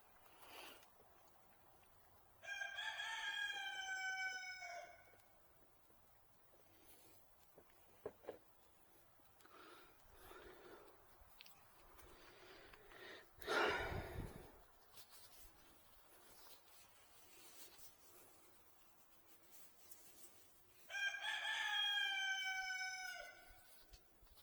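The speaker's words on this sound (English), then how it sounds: "Chickens." Farmyard chickens with a rooster crowing twice, a loud harmonic cock-a-doodle-doo near the start and again near the end, with faint clucks and rustling between, fairly close.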